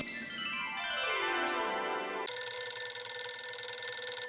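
A telephone rings alone with an electronic ringtone, first a rising sweep of tones and then a steady, buzzy repeating pattern, fairly faint and continuous.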